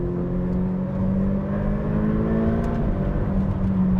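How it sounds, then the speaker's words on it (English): A Ferrari F8 Tributo's turbocharged engine pulls hard under acceleration, a steady loud drone with rising tonal harmonics and turbo whir heard from inside the car, with no talking. "You hear the turbochargers? They're really pushing in."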